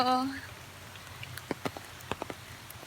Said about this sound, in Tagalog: Umuulan na naman, umagang umaga.